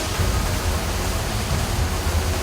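Loud, steady broadband machine noise with a rumbling low end, continuous and unvarying, from a running conveyor belt in a scrap recycling plant.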